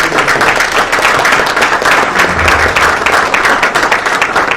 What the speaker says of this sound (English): We have to do so by clap of hands